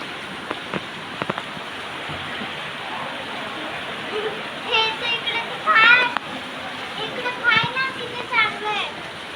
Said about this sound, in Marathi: जबरदस्त पाऊस सुरू झाला बरं का.